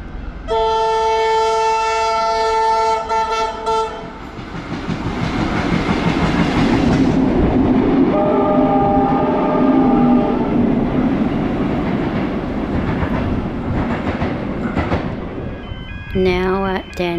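A Tait electric train at Middle Brighton Station sounds a loud horn, then rumbles past with heavy rolling clatter and further horn blasts before fading.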